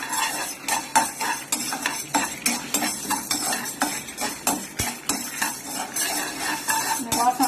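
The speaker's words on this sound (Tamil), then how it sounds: "வத்தல் எல்லாத்தையும் போட்டு கொஞ்சம் வாசம் வர வரைக்கும் வறுத்துக்குவோம்" Dried chillies roast in a hot pan for puliyodharai mix as a metal spatula scrapes and clinks against the pan in quick, repeated strokes over a faint sizzle, close and clear.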